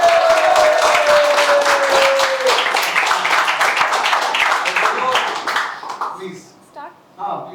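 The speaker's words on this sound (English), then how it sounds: "Shall we clap once again for you?" An audience in a school class election claps steadily for a speaker, loud dense applause that thins and fades out toward the end.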